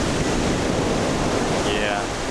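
Ocean surf at Dahican beach in Mati, Mindanao, Philippines, sounds as a loud, steady wash of broadband noise that rolls on without pause.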